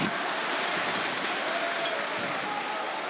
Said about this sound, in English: That's the loudest the crowd has been in the last day and a half that we've been here so far.